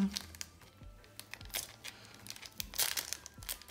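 A Pokémon Celebrations booster pack wrapper crinkles and rustles as someone struggles to tear it open, sparse close plastic crackles and scrunches at irregular intervals, with a voice murmuring now and then.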